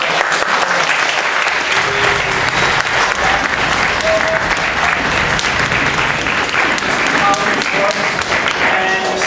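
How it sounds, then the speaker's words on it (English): Sustained, loud applause from the audience at an elementary school orchestra and band concert, a dense wash of clapping filling the hall throughout, with a few voices and cheers mixed in. "So we give them a round of applause"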